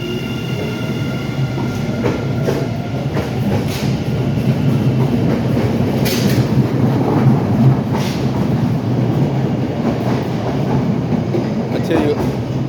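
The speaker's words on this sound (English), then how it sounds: "So it looks like this train is gonna pull away." An Orange Line subway train rumbles steadily with low, continuous rolling noise and occasional metallic clacks, loud and close, building slightly as it pulls away.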